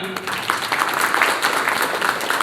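Applause from the audience at a bank staff gathering in Salasar, Rajasthan, honouring branches of Baroda Rajasthan Gramin Bank; dense, steady clapping fills the whole stretch at even loudness, with a brief voice near the start.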